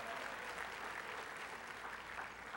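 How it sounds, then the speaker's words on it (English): An audience applauds steadily, a dense wash of clapping from many hands with no pauses. "you want to applaud for that?"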